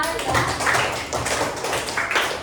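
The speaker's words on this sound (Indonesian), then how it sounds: "kita berikan aplaus untuk kelompoknya Aira" Pupils in a classroom clap for a student group after a discussion, a steady patter of hand claps under overlapping voices for a couple of seconds.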